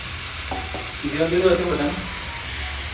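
Prawns drop into hot oil in a pan for a fish fry, giving a brief clatter and then a sizzle and stir that rise and fade over a couple of seconds, with someone talking nearby.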